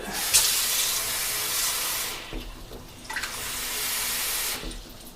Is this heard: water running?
yes